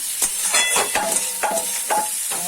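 Cauliflower and potato are sautéed in oil in a home kitchen, sizzling steadily while a utensil stirs and scrapes the pan in repeated strokes about every half second, close and moderately loud with no voices.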